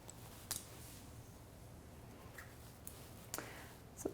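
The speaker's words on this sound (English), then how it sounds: "now we're gonna take the rest of this hair, everything that goes back, and I'm just going to cut it to that line" Scissors snipping hair during a women's bob haircut, a few faint crisp clicks spaced apart over a steady low room hum.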